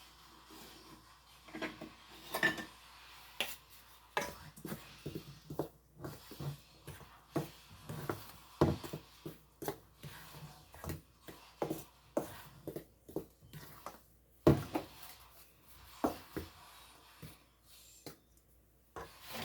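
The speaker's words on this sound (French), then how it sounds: "Je vais mélanger le tout." Pizza dough ingredients for a chicken pizza being mixed by hand in a bowl: close, irregular scraping and knocking strokes that come in uneven bursts for about twenty seconds, with no talking.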